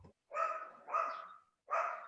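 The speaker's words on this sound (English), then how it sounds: "I'm going to mute myself too because my dogs are screaming at me" Several indoor dogs bark in three loud, close bursts, each a rough, sustained yelping bark separated by brief silences.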